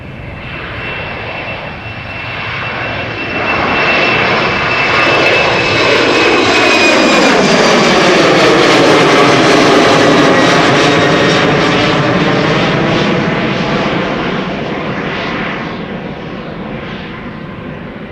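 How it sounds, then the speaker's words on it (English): A KLM airliner on departure at Amsterdam Schiphol builds into a loud, sustained jet roar that peaks mid-pass and slowly fades, with high engine whine and sweeping tonal bands as it goes by. "KLM flight 925 coming this way"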